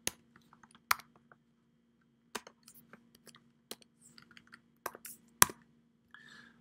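Scattered keyboard clicks in short bursts, irregular and fairly close, with a faint steady hum beneath.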